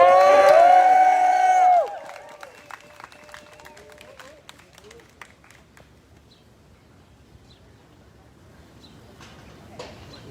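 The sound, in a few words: crowd clapping and cheering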